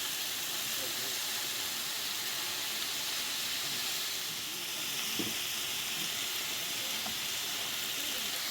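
Steady sizzling and hissing of duck bulgogi frying in a hot pan, a continuous crackle with a faint clink or two partway through.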